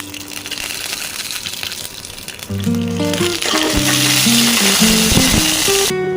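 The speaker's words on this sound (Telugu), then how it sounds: "నేను సపరేట్గా ఏమేమి చెట్లేనని పచ్చిమిర్చి అన్నీ కలిపి వేయించుకుంటున్నాను" Green chilies frying in oil in a pan, a close, loud hiss that swells after a couple of seconds into a busy crackling sizzle with tonal metallic ringing over it, no talking.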